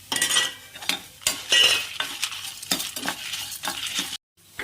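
Dried red chillies and coriander seeds dry-roast in a pan while a spoon scrapes and clinks against the metal in quick, irregular strokes, close up, with a brief silent gap near the end.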